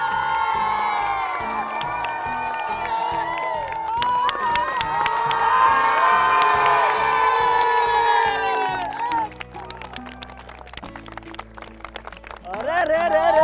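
Crowd of school children at Ranip Saraswati School cheering and shouting loudly together during a game show, with whoops rising over the din before it drops briefly and swells again near the end.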